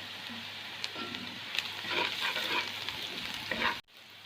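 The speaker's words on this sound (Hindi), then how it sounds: "अब मैं प्याज को अच्छी तरह से सौते कर लूँगा और तेल ज़्यादा नहीं डालना।" Chopped onions sizzle and crackle steadily in a modest amount of oil in a pan for chicken kachori filling, with occasional stirring scrapes, close and continuous before cutting off abruptly near the end.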